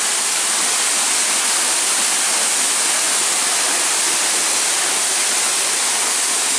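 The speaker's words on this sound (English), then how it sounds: "at the waterfall." Tunnel Falls on the Eagle Creek Trail roars in a dense, unbroken hiss of falling water, very loud and close, constant for the whole stretch with no other sounds.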